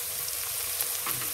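Chopped vegetables with turmeric powder sizzle and hiss steadily in a hot pan, a close, even frying sound with no voices.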